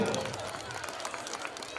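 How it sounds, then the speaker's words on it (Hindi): Parents in an audience clapping for a young child performer at a school function, a modest scattered applause that starts stronger and stays fairly even, with a brief voice heard at the very start. "please welcome our little star with a big applause"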